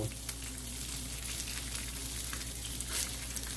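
Potato cakes frying in a pan, a steady close sizzle of hot oil with faint crackles, heard alone without talk.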